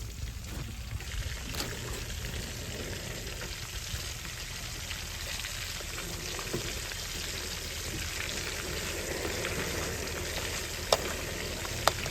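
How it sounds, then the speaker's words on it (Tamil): Fish frying in hot oil outdoors by the sea, a continuous crackling sizzle with occasional sharp pops, close and steady with no talking. "இப்போ மீன் பொரிச்சுக்கு இருக்காப்புல பொரிக்கிறோம்"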